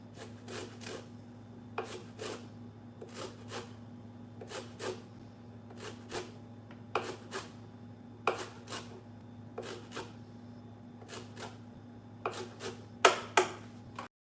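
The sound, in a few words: zesting a lime with a handheld grater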